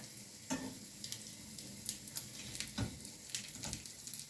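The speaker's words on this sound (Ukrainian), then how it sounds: "зараз я їх смажу на сухій сковорідці" Soft, steady sizzling of cutlets frying in a dry pan, with a few faint scrapes and ticks, quiet and close.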